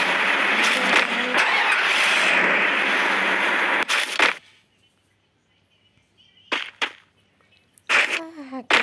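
A car engine in the Free Fire video game runs loud and steady for about four seconds while parking, then cuts out, followed by a few short sharp bursts.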